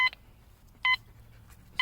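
A metal detector sounds three short, sharp electronic beeps, evenly spaced about a second apart, loud and close over a quiet outdoor background while searching for coins.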